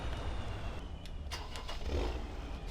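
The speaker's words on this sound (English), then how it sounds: "Awesome sound, this tractor." A vintage tractor engine starting up and running in Farming Simulator 17, a dense, steady low rumble that swells slightly toward the end, with no voices.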